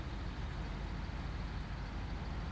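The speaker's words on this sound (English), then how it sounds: "the loud truck engine does kind of ruin it a little bit" SnowRunner truck engine droning loud and steady, a thick low rumble filling the short stretch with no voices over it.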